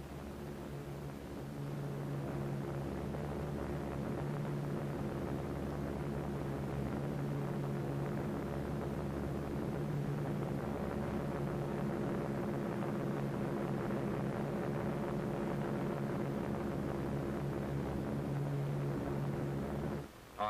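A propeller aircraft drones along in 1946 atomic test footage, a steady loud engine roar with a low pulsing hum that holds almost unbroken for about twenty seconds, then drops briefly at the very end.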